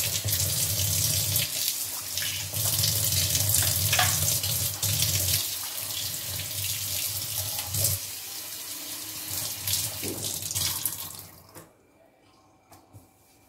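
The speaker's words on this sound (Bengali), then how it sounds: "এই দেখো চলো বেসিনটা ভালো করে ধুয়ে নিই।" Tap water runs steadily into a bathroom basin during washing, a loud continuous splashing rush for about eleven seconds before it stops, leaving a few faint drips and near-silence.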